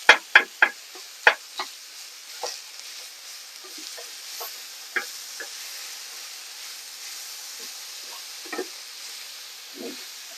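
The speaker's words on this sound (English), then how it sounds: "Chop it up, break it up with your spoon." Lamb mince sizzles softly in a pan while a spoon breaks it up. A few sharp knocks come at the start, then quieter scrapes and taps follow over a faint hiss.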